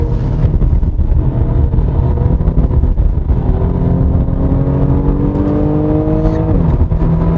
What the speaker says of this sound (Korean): 마치 그 6기통 직렬 6기통 엔진이 좀 하이 RPM 쓸 때 그런 소리 같아요